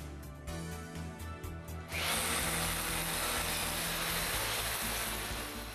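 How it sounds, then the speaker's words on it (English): A power drill with a 5/16 inch masonry bit starts up and grinds steadily into hard fire brick, loud and close, after a few brief tool clicks. "We drill the four holes using a 5/16 inch masonry drill."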